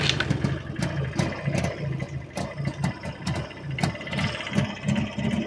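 A JAWA 350/638 motorcycle engine idles close by, a steady rapid two-stroke pulsing with sharp ticking clatter, running alone without talk.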